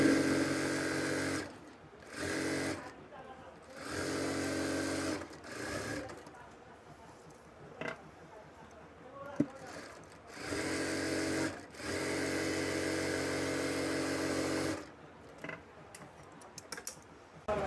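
Domestic sewing machine stitching a half-inch folded seam on palazzo trousers, fast mechanical whirring bursts in several runs separated by short pauses, close and clear with no talk.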